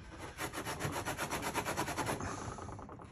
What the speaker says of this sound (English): So it's just a matter of rotating this on here and scraping it.